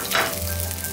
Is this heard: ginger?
yes